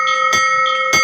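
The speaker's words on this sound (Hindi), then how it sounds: "घंटियों की आवाज सुनाई दे रही होगी।" Bells ringing at Muktinath temple in Nepal, two loud clangs about half a second apart, each leaving a bright, sustained metallic ring that hangs between strikes, close and clear.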